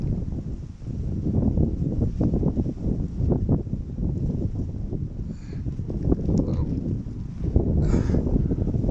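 Steady, loud wind buffeting the microphone beside a small river while fishing, a low rumbling roar with gusty surges and some faint clatter in the background.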